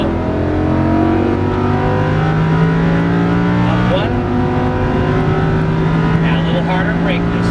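Lamborghini Huracan LP610-4 V10 engine on a racetrack, loud and close, pulling up through the revs with a steady rising drone and a brief dip near the middle, while an instructor talks over it.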